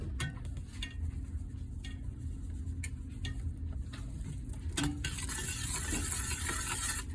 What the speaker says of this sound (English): Make sure you stir everything thoroughly so that the spices are completely added and mixed in